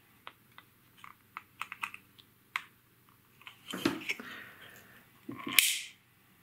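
Small plastic clicks and rustles as pliers squeeze to clip a broken VHS tape end back into its spool, a scatter of faint close ticks building to a louder snap near the end.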